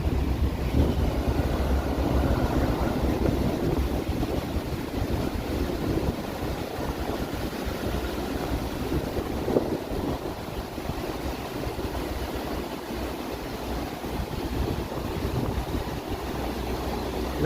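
Large tipping water bucket over a pool, heard as a steady rushing wash of water with broad noisy spread and wind buffeting, fairly loud and continuous without a distinct single splash.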